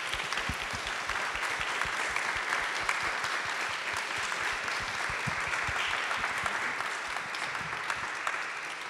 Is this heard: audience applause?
yes